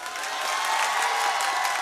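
An audience at the Pakistan Literature Festival claps steadily for a short stretch, a dense and even wash of applause with no voices over it.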